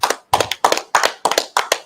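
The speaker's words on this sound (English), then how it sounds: "Man, clap it up for the brothers." Rhythmic group clapping at a Sabbath service in Atlanta, six sharp bursts in a steady beat, loud and close with no talk over it.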